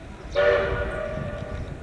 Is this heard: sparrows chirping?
no